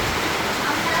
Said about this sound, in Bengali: এই যে উপর থেকে পানি পড়ছে